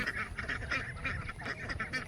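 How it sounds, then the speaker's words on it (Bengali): A flock of ducks feeding together near a pond gives repeated honking, quacking calls in quick bursts, fairly close and steady, with no talking over them. "অনেকগুলো হাঁস আছে এর মধ্যে"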